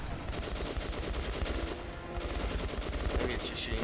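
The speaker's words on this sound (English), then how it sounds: "Maybe it's just shooting out like some sort of heavy machine gun rounds" Heavy gunfire from the video game Metro: Last Light, a dense, continuous barrage of rapid shots at steady loudness with no pauses, like a heavy machine gun firing without letup.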